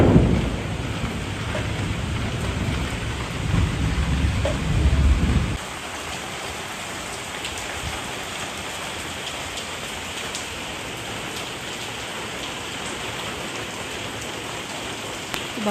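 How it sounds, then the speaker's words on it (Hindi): Heavy rain falls steadily during a thunderstorm, a dense close hiss with a low rumble of thunder in the first few seconds. The rumble then fades and the rain carries on alone. "सब जगह पे बारिश हो रही है, मौसम बहुत ख़राब है, बिजली भी चमक रही है।"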